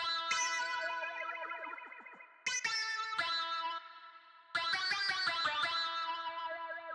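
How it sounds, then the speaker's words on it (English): A wah-effected guitar one-shot from the Melody Mania multi-kit, played as three bright twangy plucked phrases with sweeping filtered tone and echoing tails, each cut off before the next starts. "this wah guitar is also from the Melody Mania multi-kit"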